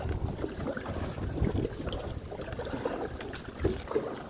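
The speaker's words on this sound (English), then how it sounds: "It's a windy day." Wind buffets a microphone out on the water on a fishing trip in a small boat, with uneven gusty rumble and faint splashing, and no talking.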